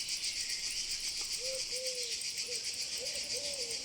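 A large European grasshopper in the Euganean Hills at night gives a continuous, steady high-pitched buzzing stridulation, with faint cooing bird calls in the background.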